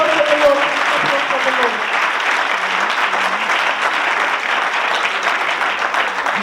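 A church congregation claps loudly and continuously in acclaim for Jesus, a dense, steady wall of applause with voices calling out over it.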